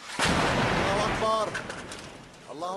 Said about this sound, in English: That noise, almost certainly the sound of heavy shelling.